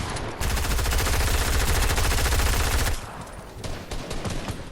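Rapid automatic gunfire in the Fortnite video game: a dense, loud burst of shots for about two and a half seconds, then scattered lighter shots and game noise, with no talking.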